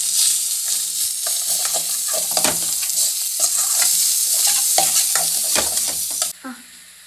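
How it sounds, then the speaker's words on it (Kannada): Paneer frying in a pan is stirred with a scraping utensil, sizzling steadily with repeated stirring strokes and clanks at close range, then dropping quieter at the very end. "ಆ ಕಡೆ ಫ್ರೈ ಮಾಡ್ಕೊಂಡಿರೋದನ್ನು ನೋಡಿ"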